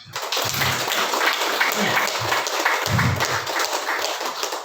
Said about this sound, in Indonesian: Bapak Ibu silakan tepuk tangan semuanya